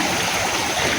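A river flowing with a steady, dense wash of rushing water, loud and close, with no voices over it.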